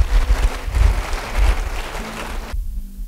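A church congregation claps together in a brief burst of dense, loud applause, which cuts off abruptly near the end.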